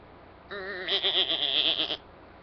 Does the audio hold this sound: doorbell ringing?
no